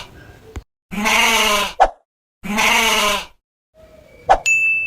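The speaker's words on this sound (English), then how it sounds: "This is goat." A goat bleats twice, loud and close, in long wavering calls with short clicks between them and a bright chime-like tone near the end.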